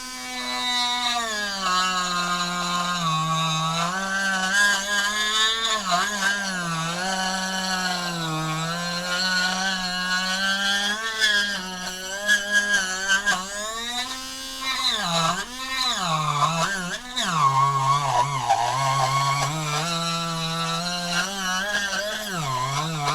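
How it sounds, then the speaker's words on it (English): Dremel rotary tool cuts a trench for house lighting, a loud, close, high-pitched whine that wavers and dips as the bit bites under load, running continuously throughout. "So I'm going to run through this leg real quick, and then I'll turn off the Dremel"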